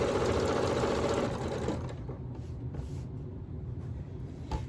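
A sewing machine stitches a wiggly quilting line across flat fabric, running loud and steady for nearly two seconds, then dropping to a softer, uneven whir for the rest, with no talking.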